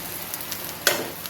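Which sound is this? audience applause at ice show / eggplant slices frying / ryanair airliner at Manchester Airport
eggplant slices frying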